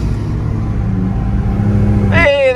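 A 2019 Ford Raptor with an EcoBoost engine drives along, its steady low rumble filling the cabin, before a voice starts speaking near the end.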